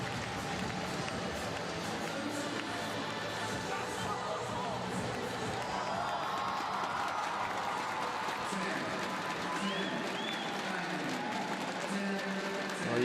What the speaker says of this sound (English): you can hear the applause from the crowd